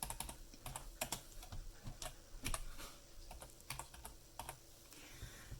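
Quiet, irregular clatter of typing on a computer keyboard, with keystrokes in short bursts and brief pauses and no one talking.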